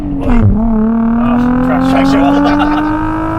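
Car fitted with a Z1 Touring cat-back exhaust revs up, its droning engine note dipping then rising steadily and holding loud and close throughout.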